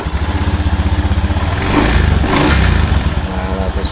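A Honda Scoopy scooter, just repaired after an ignition fault, cranks and fires up, then settles into a steady, close idle with a brief rev rise near the middle.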